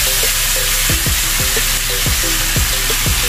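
Fried pork tumbling into a hot pan with onions, a loud steady sizzle broken by a run of regular scraping, stirring strokes.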